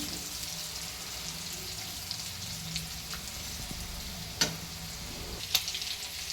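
Potato pieces frying in oil in a pan while a jackfruit curry is prepared, giving a steady, close sizzle with occasional brief pops and stirring clicks. No one speaks.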